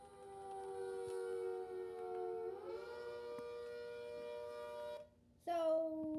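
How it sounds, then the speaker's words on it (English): A homemade rotating tornado siren holds a steady wailing tone, then shifts pitch, briefly drops out, and returns with a rising wail. "here's the tornado siren again"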